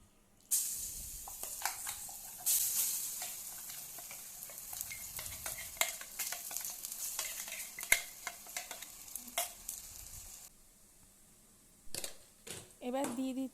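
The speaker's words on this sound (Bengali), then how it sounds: "সাদা তেল গরম হওয়ার সাথে সাথে মুগ ডাল পেস্টটা দিয়ে দিলাম।" Moong dal paste frying in hot white oil in a kadai, with a steady hiss and sizzle broken by repeated scraping strokes of a stirring spoon, close and fairly quiet; a short pause comes near the end before a few more clinks and scrapes.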